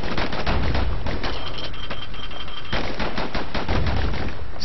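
Rapid gunfire from dual slinger pistols in the video game Bastion: dense, loud bursts of repeated shots with brief lulls, layered over game background sound and no speech.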